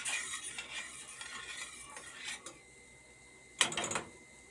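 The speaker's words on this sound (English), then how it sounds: "put a little sugar in there and stir that one" Pineapple chicken is stirred in a pot with sugar added, producing soft scraping and sizzling through the first part, then a sharp clatter of utensil against the pot, close up.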